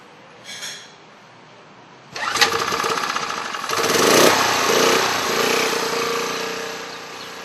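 A generator near a home in Cedar Rapids kicks on abruptly and keeps running with a loud, steady, rattling engine drone. No voices are heard over it.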